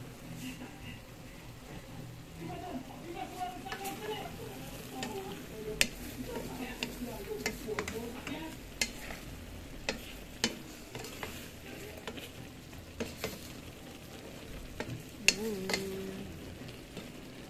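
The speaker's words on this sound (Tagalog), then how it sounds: "Nakuluan ko para maluto ng ilang minuto" Eggplant adobo with moringa leaves cooks in a pan, a low steady sizzle and simmer running throughout, with occasional sharp clicks and scrapes of stirring standing out near the microphone.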